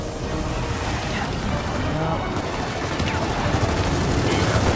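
Dense turret gunfire in Gears of War 4, with a constant loud roar of rapid shots and explosions filling the whole stretch while a voice talks over the battle.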